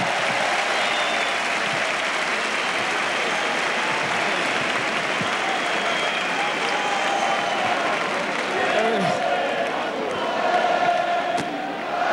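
A large crowd applauds steadily at an Atlético de Madrid celebration as the mayor steps up, dense clapping sustained throughout with some shouts rising near the end.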